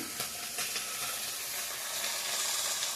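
Pointed gourd (potol) frying in hot oil, giving a steady, close, broadband sizzle and hiss that runs unbroken for the whole few seconds with no talking.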